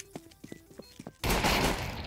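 Pistol shots ring out in a first-person shooter match, a string of about six quick, sharp cracks spaced roughly a quarter second apart, then a sudden loud blast of noise that fills the rest of the moment.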